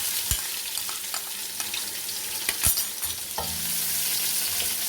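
Finely chopped onion frying in oil for dal chana, a steady close sizzle with occasional stirring scrapes and spoon taps against the pan.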